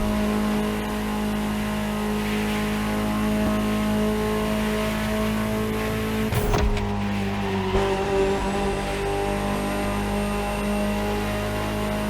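A Ferrari supercar engine in the racing game The Crew Motorfest, a steady droning hum that holds for a long stretch, with a brief sharp change mid-way, loud and close with no talk.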